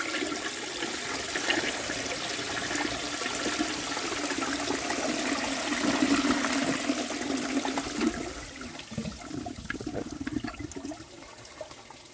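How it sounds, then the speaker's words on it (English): An antique 1905 front-flushing forward-trap toilet flushes in a loud, steady rush of water that swells and then tapers into gurgling and trickling as the bowl drains. "I'm going to flush it"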